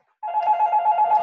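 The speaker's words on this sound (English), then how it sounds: "that's a really loud phone" Landline telephone ringing loudly, a single sustained electronic ring that starts abruptly and holds steady, close and alone.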